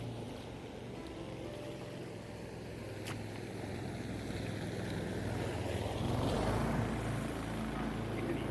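A powered boat passes on the Black River in Wisconsin, heard as a steady engine drone under broad water and wind noise that swells louder toward the end, with no talking.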